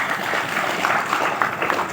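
An audience at a religious gathering claps in a dense, steady patter of applause that carries evenly throughout.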